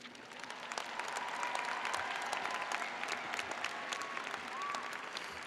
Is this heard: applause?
yes